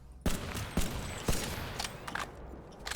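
Battle rifle gunfire in a video game, with three sharp, loud shots spaced about half a second apart, followed by fainter mechanical clatter and a few softer pops.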